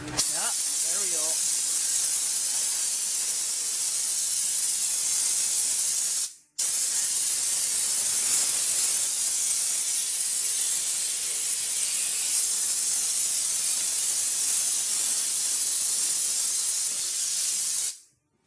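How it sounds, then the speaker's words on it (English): Two long bursts of loud aerosol undercoating spraying onto a vehicle close by, the first about six seconds and the second about eleven, separated by a brief pause. "Should we spray the back of this or no?"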